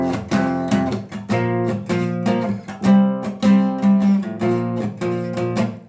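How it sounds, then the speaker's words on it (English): Power chords strummed on an acoustic guitar in a steady, rhythmic pattern, each strum ringing full and close with short gaps between chord changes, played alone without any voices. "If you decide the power chords on acoustic, it's also going to sound cool"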